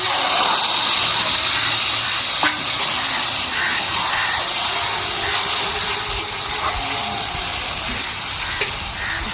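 A fish, lobra, hits hot oil in a pan and sizzles with a loud, continuous hiss and spattering crackle, close up and steady with occasional sharper pops.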